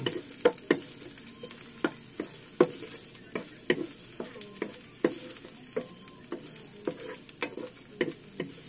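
Onion and garlic sautéing in a pan, with steady regular scrapes and clinks of a utensil stirring over a soft continuous sizzle, close and without talk.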